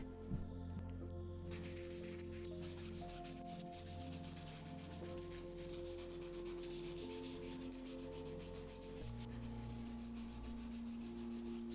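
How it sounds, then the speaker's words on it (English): Toenails being filed into shape during a foot pedicure, a steady rasping, rubbing scrape that continues close and fairly quiet against a constant background hum throughout. "cutting all the toenails and then filing them into shape"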